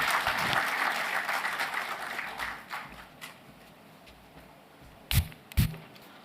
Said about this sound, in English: A round of applause for our CS.